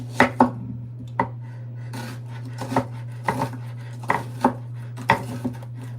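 A knife slices through an onion on a cutting board, producing sharp, irregular chopping knocks spaced about half a second apart, close and crisp over a steady low hum.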